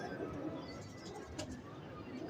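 A male breeding pigeon in a loft setup coos softly, a low continuous murmur that is faint and close under quiet room noise.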